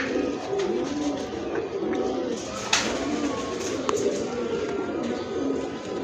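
A pigeon coos close by in a repeated, soft rhythmic pattern, with faint background noise.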